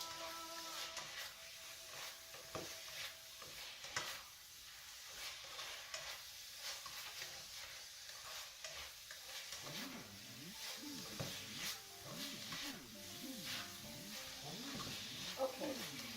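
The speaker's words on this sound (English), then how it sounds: "just keep mixing it until the color changes" Spicy beef frying and being stirred in a pan for a Chinese dish, a continuous close sizzle with repeated scraping stirs throughout, and a voice talking over the cooking.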